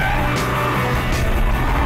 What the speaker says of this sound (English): when you really hammer it, it starts to sound like a proper muscle car